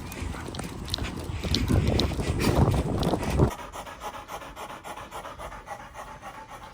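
Dogs pant rapidly and loudly up close for a few seconds, then the panting drops to a softer, steady rhythm with background noise, no talking.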